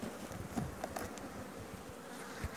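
Honeybees buzz close by at an open hive while a colony is being split, a steady faint hum with individual bees droning past, no voices.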